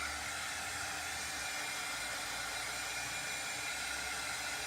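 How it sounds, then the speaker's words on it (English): Steady, close hair dryer blowing without a break, a dense airy whoosh used to dry chalk paste on a craft project. "You can use hair dryer as well."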